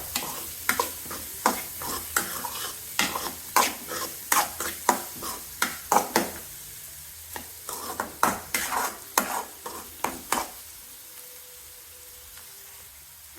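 Onion sautéing with turmeric and chili powder in a pan: a spoon stirs and scrapes in sharp repeated strokes over a soft sizzle, the stirring stops near the end and leaves only a faint hiss.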